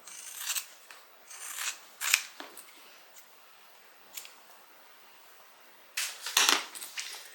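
Scissors snip through excess fabric bulk while sewing a tote bag, giving several sharp, close cutting crunches in short bursts separated by quiet pauses.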